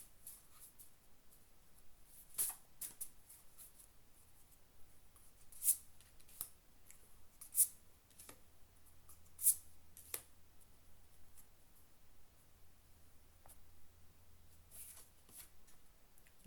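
Tarot cards being shuffled, soft scattered riffles and snaps at irregular intervals, faint and close in a quiet room with no speech.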